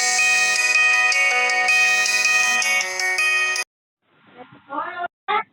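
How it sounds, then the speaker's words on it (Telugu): A melodic mobile phone ringtone plays loud and steady for a few seconds as an incoming call arrives during a mobile shooting game, then cuts off. A few brief, muffled voice-like sounds follow. "ఫోన్ వస్తుంది"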